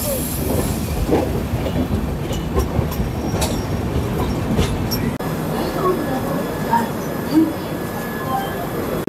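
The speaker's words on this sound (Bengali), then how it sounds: "রাইট টাইমে আমাদের ট্রেন এনজিপি স্টেশনের 1 নম্বর প্ল্যাটফর্মে ঢুকেছিল" A train pulling into platform 1 at NJP (New Jalpaiguri) station, a continuous loud rumble of wheels on rails with faint squeals and announcements, and a babble of voices on the platform.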